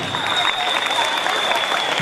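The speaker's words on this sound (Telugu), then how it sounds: "టీచర్స్ గట్టి క్లాప్స్ ఇవ్వాలమ్మా" Loud, dense applause from teachers and pupils at a school Sankranti festival celebration, steady clapping filling the whole short moment with crowd noise.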